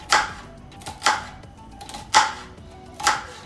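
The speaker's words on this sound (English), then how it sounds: "We need to chop our onion." A knife chops through an onion on a board, four distinct sharp thuds spaced about a second apart, close and clear against quiet background.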